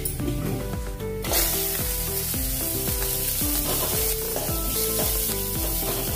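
Green chillies dropped into garlic frying in oil, a loud burst of sizzling that swells as they go in and then keeps crackling and hissing steadily up close, with stirring and no talk.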